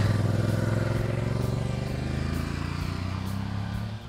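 A motorcycle rides along a road during a riding lesson, its engine droning steadily and loudly close by throughout, with slight shifts in pitch as it holds speed.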